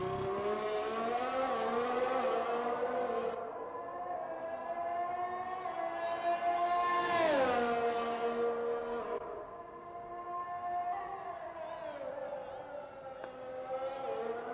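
A race car engine in a racing video game, with sustained harmonic engine whine rising and falling through gear shifts and revving, loud and continuous with no talk.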